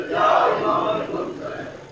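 A religious gathering at a majlis in Iqbal Town chants the slogan Al-Ajal in unison, a loud, close crowd chant that swells briefly and then tapers off.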